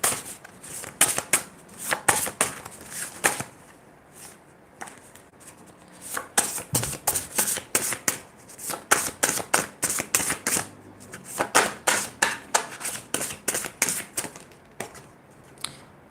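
Zodiac cards are shuffled in repeated bursts of crisp riffling and slapping, close and fairly loud, with short pauses between rounds.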